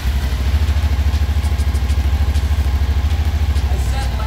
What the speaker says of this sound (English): The last step is to run the engine. Bring it up to full operating temperature